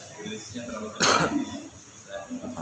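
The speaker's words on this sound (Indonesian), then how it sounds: "Batuk." A single short cough bursts out in the middle of quiet talking, close and fairly loud.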